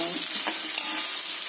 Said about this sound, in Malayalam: സവാള എല്ലാം ഇട്ട് വഴറ്റുന്നു.